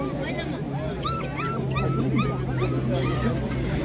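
Small puppies for sale at a Shymkent dog market give repeated high yips and whimpering barks near at hand, set against steady crowd murmur and a constant low hum.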